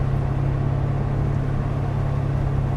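A Chevrolet Corvette C7 Grand Sport cruises along a coastal road, its engine giving a steady, loud low rumble with constant road and wind noise, no voices.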